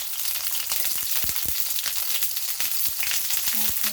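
Homegrown organic eggplant fries in hot oil with a dense, steady sizzle and sharp popping splatters throughout, close and loud, with no voices over it.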